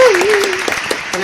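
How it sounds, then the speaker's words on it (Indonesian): An audience claps in a burst of applause welcoming a guest, while a voice speaks briefly over the start of the clapping. "Tepuk tangan dulu untuk Lulu Natawut Kapunkap"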